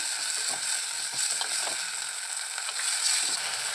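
Onion, tomato and green chillies frying in a pan, a continuous bright sizzle with small crackles and stirring clicks throughout, close and steady with no talking.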